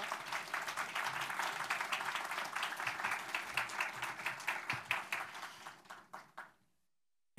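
A church congregation claps to welcome a visiting pastor during a Sunday worship service, a crowd of hands applauding steadily, the rhythm becoming more distinct as it thins out and stops, followed by silence.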